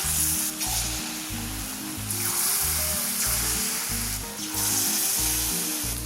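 Banana fritter batter sizzles and fries in hot sunflower oil, a steady close crackling hiss with rhythmic low stirring or lapping bumps throughout, no voices.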